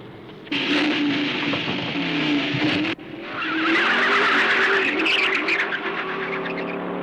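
A racing car skids, its tires squealing in a loud, sustained screech over the engine's roar; the sound breaks off briefly, then returns in a second long, wavering skid.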